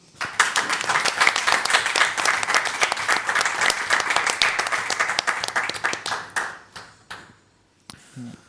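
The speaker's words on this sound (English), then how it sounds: "Big round of applause for everyone" An audience at a DappCon 2024 conference session in Berlin breaks into applause, a dense burst of clapping that sustains for about six seconds before thinning to a few scattered claps and fading out.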